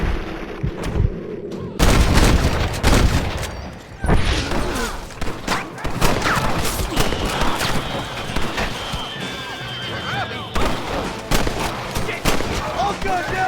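Gunfire rings out in the Western video game Red Dead Redemption, with repeated loud shots and cracks mixed among horse whinnies, hoofbeats and someone shouting, in a dense, busy battle scene.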